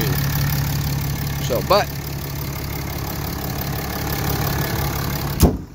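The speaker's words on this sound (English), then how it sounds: "it's a Cummins, so it's, you know, a little on the loud side as far as diesels go" A 2017 RAM 3500 Cummins diesel dually with Aisin transmission idles with a steady, fairly loud low rumble close by, while someone talks briefly over it and a couple of short clanks sound near the end.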